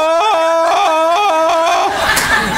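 A comedian's voice imitates a wailing, warbling song on stage, one long wavering cry with quivering pitch bends that rises and falls near the mic, followed by a harsher strained note at the end.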